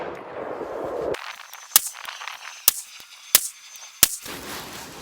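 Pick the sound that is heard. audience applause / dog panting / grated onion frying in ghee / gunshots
gunshots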